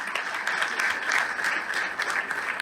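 Sustained applause from an audience honouring mentors at a business achievement event, dense even clapping at moderate loudness throughout the short stretch.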